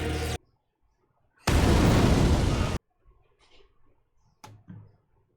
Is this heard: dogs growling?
no